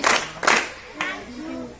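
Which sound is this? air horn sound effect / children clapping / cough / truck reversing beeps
children clapping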